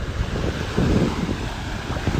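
Ocean surf washing steadily onto a beach at sunrise, with wind buffeting the microphone in a continuous broadband rush and small surges of swell, no voices.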